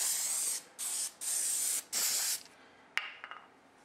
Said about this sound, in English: You spray on this a coating, and you spray on the board